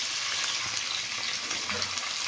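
Country chicken pieces fry in oil with onions inside a pressure cooker, giving a steady, close, hissing sizzle with small crackles throughout and no voices.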